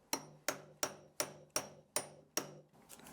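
Seven evenly spaced hammer blows ring out sharply, each with a short metallic decay, as a bearing is knocked off a BSA square-taper bottom bracket spindle held in a vise; close and isolated with no talk.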